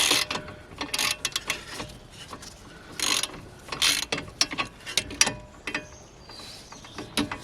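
A hand ratchet clicks in short, uneven runs of sharp ticks while a BMW F30's front brakes are worked on, close and fairly loud, with pauses between bursts and no speech.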